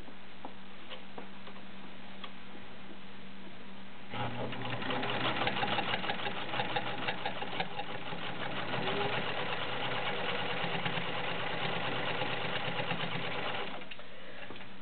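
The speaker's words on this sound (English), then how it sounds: "the little noise that you hear is this little plate here. It's just loose enough that when it sews, it kind of vibrates against." A Kenmore 52 sewing machine stitches cotton with size 50 thread, its needle running in a fast steady tick while a loose throat plate adds a buzzing rattle; the machine runs for about ten seconds, then stops.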